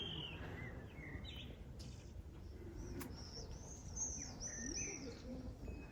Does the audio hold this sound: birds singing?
yes